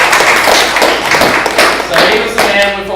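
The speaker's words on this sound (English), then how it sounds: "Big round of applause for Drew" Close, loud clapping from a small audience at a user group meeting, uneven individual claps and thumps over about three seconds with some talk mixed in.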